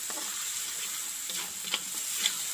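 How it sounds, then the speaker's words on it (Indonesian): Spice paste for chayote squash bobor sizzles steadily as it is stirred and fried in a pan, with a constant close hiss broken by a few soft scraping clicks of the stirring utensil. "Aduk-aduk biar rata, merata matang bumbunya."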